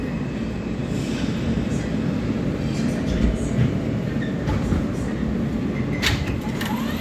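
Alstom R160A-1 New York City subway car on the L train, BMT Canarsie Line, bound for Broadway Junction, roaring steadily with dense low rumble and rail noise throughout, faint squeals and clanks near the end.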